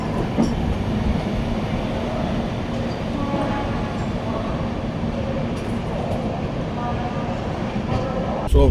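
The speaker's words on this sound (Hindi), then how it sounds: "ट्रेन हमारी कांस्टेंट मेंटेन करके चल रही है, बढ़िया स्पीड।" Duronto Express on the Delhi–Mumbai route beyond Ratlam runs at steady speed, a loud continuous rumble of wheels on rails with faint clickety-clack from the carriage, steady throughout.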